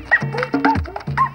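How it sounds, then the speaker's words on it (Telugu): A dog in a Telugu comedy film gives a quick series of yips and whimpering barks, about five short close calls in a little over a second. "రేయ్ మధుగడు కుక్కలు వచ్చినట్టున్నాడు"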